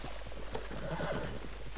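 A horse in the western video game Red Dead Online whinnies briefly over soft clopping hooves, heard quietly against a steady low hum.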